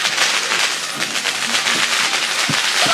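Fireworks going off at an outdoor bonfire night, a dense continuous crackle and hiss with a few duller thuds, loud and close throughout.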